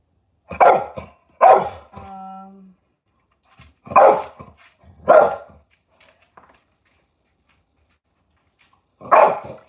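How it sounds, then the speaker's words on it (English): A dog barks close by in loud, separate bursts, five or so spaced over several seconds with quiet gaps, in an indoor room. "Don't bark at me like that."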